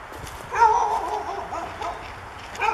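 Dogs in the Aydos Forest near Istanbul bark and whimper outdoors at a moderate distance, with several yelping, whining calls in a loose, uneven rhythm.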